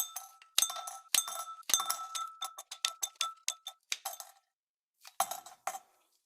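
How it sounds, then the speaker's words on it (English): Cleaned tin metal being cut into smaller pieces, a series of sharp metallic snips and clinks in irregular bursts, close and distinct with short silent gaps between them. "The tin that I have now is way cleaner, and I'll cut it into some smaller pieces."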